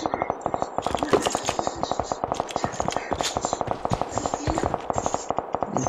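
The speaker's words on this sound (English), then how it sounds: "I hear a lot of shots." Gunshots in PUBG ring out as a rapid, evenly spaced burst of automatic fire, dozens of sharp cracks in quick succession, loud and sustained across the whole stretch under a player's voice.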